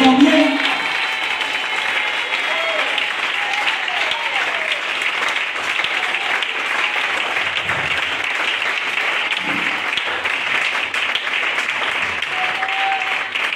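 A church congregation applauds steadily for over ten seconds, a dense sustained clapping with scattered cheers and voices mixed in.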